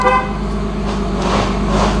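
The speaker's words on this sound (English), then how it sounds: "Horn works." A Nissan 370Z car horn gives a steady, close honk that rings out strongly at the start and carries on as a sustained tone over low engine rumble.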